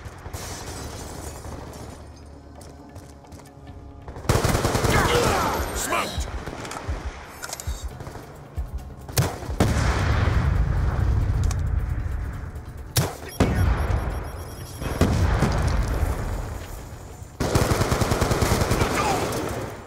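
Rapid automatic gunfire bursts in Call of Duty Black Ops 2 multiplayer, loud and close, broken by short gaps and a few sharp single shots, with players talking over the shooting.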